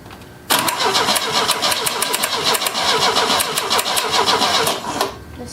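A 1970s-era Opel GT engine, unrun for 30 years, cranks briefly and then catches, running loud and steady with a rough, uneven idle for several seconds before cutting off abruptly.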